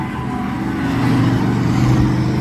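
Race car pulling away on a track at a green flag, a steady loud engine drone with a slight rise in level, no talk over it.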